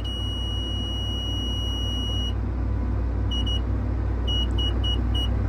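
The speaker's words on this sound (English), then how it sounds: "starts beeping to warn him that he's getting pretty close" A cattle feed loader's loud continuous electronic proximity warning beep sounds, stops, then returns as repeated short beeps over the steady rumble of its heavy engine.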